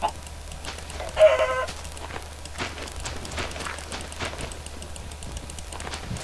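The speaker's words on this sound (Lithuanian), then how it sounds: "vištų. Mėgstu aš vištų." Chickens cluck in a Minecraft world, with a brief louder squawk early on and softer clucks scattered through a steady low game background.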